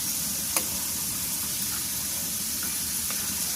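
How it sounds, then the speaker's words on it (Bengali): Pitha cakes frying in hot oil in a village kitchen give a steady close sizzle throughout, with a soft click or two from turning them. "এগুলো হচ্ছে ভেজে নিতে হবে"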